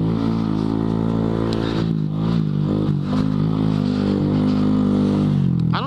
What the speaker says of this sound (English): I never have to leave first gear with this bike.